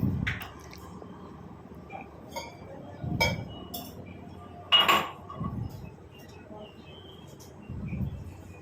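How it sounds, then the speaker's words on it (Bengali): Sugar is stirred into tea with a ladle, giving a few scattered light metallic clinks against the vessel over a low, steady background hum, with no voices. "বাবাই চাটা তুলে নিয়ে একটুখানি চিনি মিশিয়ে হাতা দিয়ে ভালো করে গুলে নিচ্ছি।"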